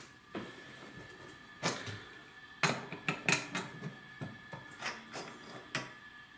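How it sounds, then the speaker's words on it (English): A crescent wrench works a nut on a bathroom faucet, giving a series of sharp metallic clanks and scraping clicks at close range, irregular and spaced out, with no talking. "So we'll get a crescent wrench to take off this nut."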